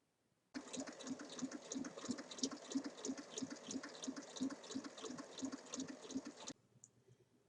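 A sewing machine stitches a zipper to the right side of fabric for a large multi-pocket bag, running in one steady close burst of about six seconds with a rapid, even needle rhythm before stopping abruptly.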